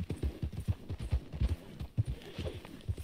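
Horse hooves clip-clop in Red Dead Redemption 2, a brisk uneven series of close, punchy hoof strikes over about three seconds, with no voices.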